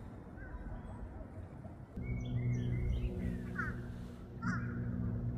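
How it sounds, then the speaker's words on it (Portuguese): Birds call in a park beside a lake in Indiana, a few brief chirps and caws rising over steady outdoor background noise, moderately distant. "Mas também para registrar o canto de uma outra ave."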